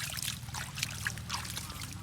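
Water trickles and dribbles steadily onto a truck, a faint, continuous pouring sound with soft splashing.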